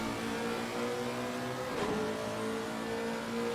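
GT3 race cars, a Lexus and a McLaren, howl through a corner at the Aqua Minerale section in a sim racing game, engines revving steadily and loudly with a brief sweeping pass near the middle.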